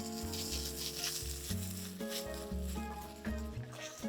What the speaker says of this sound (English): You hear the tomato puree frying the bottom of the pan.